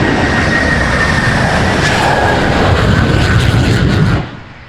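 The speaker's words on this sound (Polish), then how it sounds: "Pojazd z silnikiem odrzutowym" A jet-engine drag racing vehicle at a Doorslammers race roars loudly as a sustained, broadband blast with a thin high whine, then drops off sharply near the end.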